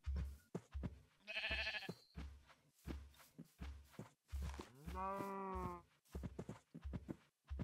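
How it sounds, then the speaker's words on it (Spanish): Sheep bleating in the video game Minecraft, two drawn-out harmonic bleats close by, with short repeated game sounds and other animal noises around them. "Ahí está nuestra ovejita negra."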